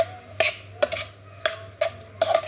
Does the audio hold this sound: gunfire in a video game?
no